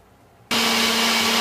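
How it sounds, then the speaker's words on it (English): A kitchen blender kicks on abruptly and whirs steadily at full power, loud and close, blending tomatoes into a tomato sauce for lasagna. "we're going to go ahead and blend our tomatoes to make our tomato sauce"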